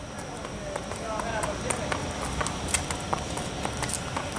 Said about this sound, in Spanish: miren cómo se pasea este caballo